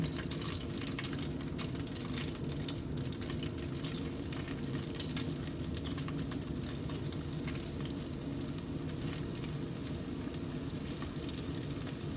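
Coated chicken wings frying in hot oil make a dense, steady, even sizzle that carries on without a break for the whole stretch, heard close with no voices.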